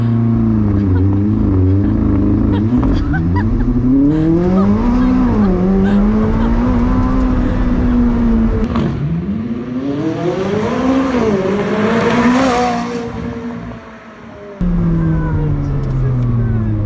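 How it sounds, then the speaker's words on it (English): A wrecked McLaren 600LT, just back from suspension repairs, drives around the block with its engine close and loud, the pitch climbing and falling as it revs and shifts. "We're able to drive the car around the block."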